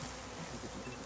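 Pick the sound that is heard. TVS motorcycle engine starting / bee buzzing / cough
bee buzzing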